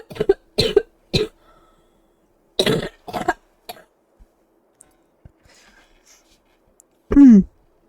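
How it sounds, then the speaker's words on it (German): A coughing fit comes in close, harsh bursts: a few quick coughs, a pause, then another tight cluster. A quiet stretch follows before one final strained, voiced sound. "Ich hatte gerade einen Hustanfall"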